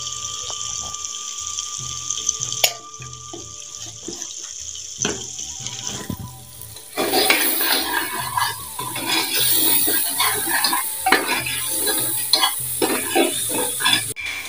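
Masala with red chili stirred and roasted in a pan gives quiet scraping and clinking at first, then a steady sizzle with spoon scrapes that grows louder halfway through and continues to the end.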